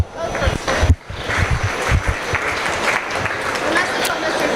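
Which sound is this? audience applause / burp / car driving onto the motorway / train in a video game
audience applause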